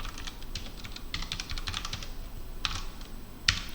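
Someone types on a computer keyboard in irregular bursts of light clicking keystrokes. A couple of sharper key taps stand out near the end, and the room is otherwise quiet with no talking.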